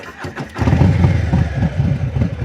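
A Harley-Davidson Low Rider ST motorcycle engine fires up and settles into a loud, close, lumpy rumble with a steady uneven pulse, heard alone without talk.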